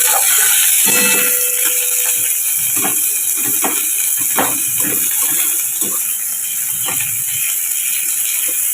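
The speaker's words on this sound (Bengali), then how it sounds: "সে সর্ষের তেলের মধ্যে কালো জিরে ফোড়ন দিয়ে দিয়েছি। এবার অল্প পেঁয়াজ কুচো দিয়ে দিলাম।" Chopped onion hits hot mustard oil already tempered with black cumin, giving a loud, steady sizzling hiss with scattered pops and crackles throughout.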